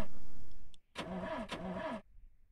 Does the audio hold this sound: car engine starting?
yes